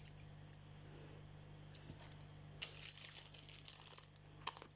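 Scissors snip several times through cross-stitch fabric, crisp blade cuts with crinkling paper, close and fairly quiet, pauses between cuts.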